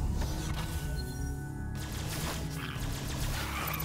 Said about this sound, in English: I'm gonna open this southern door here.